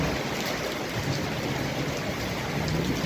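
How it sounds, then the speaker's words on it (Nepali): Heavy morning rain with wind pours down in Kapan, Kathmandu, a steady, dense and loud downpour hissing continuously with no break and no voices. "एकदमै ठुलो पानी पर्दैछ"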